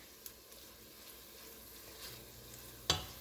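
Collard greens sautéing in grapeseed oil in a pan on fairly high heat: a faint, steady low sizzle with a sharp utensil clack near the end, no talking.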